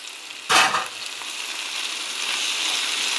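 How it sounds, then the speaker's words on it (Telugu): Chopped leafy greens go into a hot pan of fried tomato pieces for a pulao, starting with a brief loud splash and hiss that settles into a steady, fairly close sizzle with no voices. "ఇప్పుడు వచ్చేసి ఆకుకూర వేసుకుందాం."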